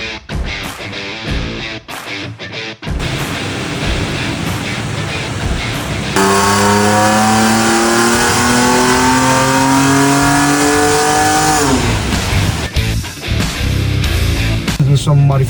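A tuned 2024 Ford Ranger Raptor truck, Stage 2 with an intercooler upgrade, revs hard, its engine note rising steadily in pitch for several seconds before dropping off, loud and close amid earlier rumbling.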